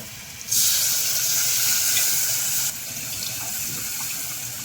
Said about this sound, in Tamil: இப்போ நம்ம வந்து இதில் புளி தண்ணி ஆட் பண்ணிடலாம்.